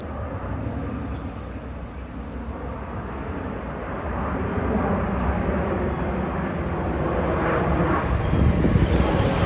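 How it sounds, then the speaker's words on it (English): A Virgin Atlantic Airbus A350, bound from Heathrow to JFK, passes overhead near a Long Island Rail Road station, its broad jet roar holding steady and swelling slightly louder toward the end, with some wind noise on the microphone. "here's Virgin 153 from Heathrow to JFK."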